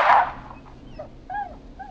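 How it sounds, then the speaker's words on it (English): A dog whimpering in the horror game Killer Frequency: a sharp yelp up front, then a string of thin, high, falling whines, close and plaintive, with no talk over them. "Oh my god, he killed his dog."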